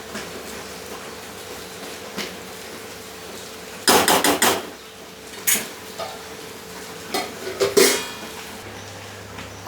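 A pan of kanda poha being covered with a lid, giving a burst of close metallic clatter and knocks followed by several sharper clanks, loud against a quiet kitchen background.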